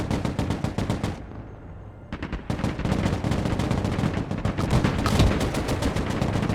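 Mortar and gunfire in the real-time strategy video game Broken Arrow: rapid bursts of automatic fire and sharp repeated reports, a brief lull, then dense overlapping shots and heavier thuds.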